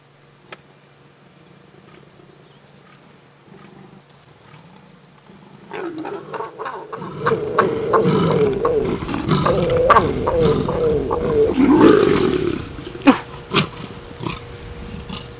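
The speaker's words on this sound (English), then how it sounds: "The whole very noisy mating leopard process." Leopards mating on a wildlife safari, starting quietly then erupting into loud, close, harsh roaring and growling snarls that continue in bursts for several seconds, with sharp outbursts near the end.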